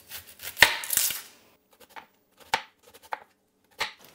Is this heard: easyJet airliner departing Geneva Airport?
no